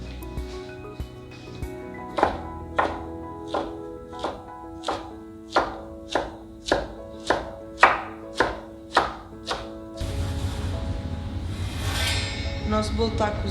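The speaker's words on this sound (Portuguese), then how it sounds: "Porque é que eu estou a usar uma faca de serra neste caso? Porque é mais fácil de de descascar o ananás." A serrated knife peels and cuts a pineapple in a hotel kitchen, giving about a dozen evenly paced, crisp chopping strokes on a board. A brief burst of broader noise follows at the end.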